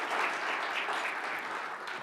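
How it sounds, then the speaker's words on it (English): Short round of applause from patients and families at a Huntington Study Group family day, a steady bright clatter of many hands that tapers slightly. "Give yourselves a round of applause"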